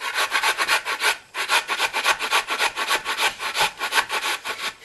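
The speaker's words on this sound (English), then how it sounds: "I'm just going to top and tail the carrots. Okay, and I'm going to grate them on the larger side." Carrots rubbed against the coarse side of a box grater in a home kitchen while making coleslaw, a loud, steady back-and-forth rasping with about a dozen close strokes and one short pause.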